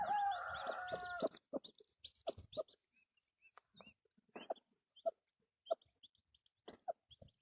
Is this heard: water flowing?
no